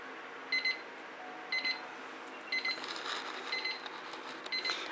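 A kitchen timer alarm goes off in repeated pairs of bright electronic beeps, about five bursts over a few seconds, loud and close above a quiet room with soft handling noise between them.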